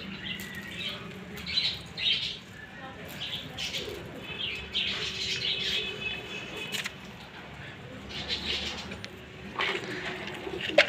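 Pigeons let out of their coop and fed chickpeas, with soft cooing, chirps and bursts of wing flapping close by over a steady outdoor background.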